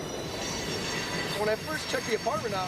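A train rumbles past close to an apartment, a steady loud rolling roar with faint squealing tones, while a person talks over it.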